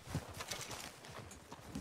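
Horse hooves clip-clop in Red Dead Redemption 2, a steady rapid rhythm of quiet hoof beats close by over a soft background.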